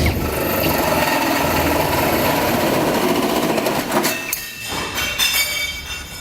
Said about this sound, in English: Now we'll take a 4-inch hole saw, go into our pilot hole, make our hole for our gooseneck ball to come through.